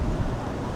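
Strong wind buffets the microphone outdoors at an airport, a steady low, broadband roar with gusty swells that fills the whole short stretch.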